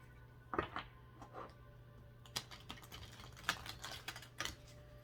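A run of crisp, rapid tarot card riffles and flicks, several short bursts spread across the span over a low steady hum.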